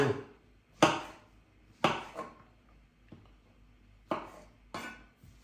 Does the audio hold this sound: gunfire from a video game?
no